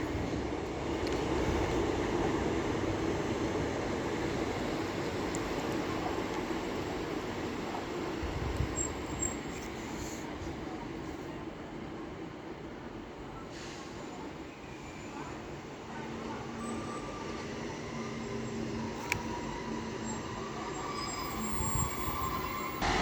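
British Rail Class 800 train 800102 passing through Doncaster station on the East Coast Main Line, a steady loud rumble of wheels on rails that fills the whole stretch, with faint talk now and then.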